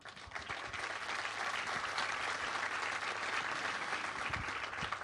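An audience at a stage event with floral displays claps in dense, sustained applause, even and unbroken throughout with no voices.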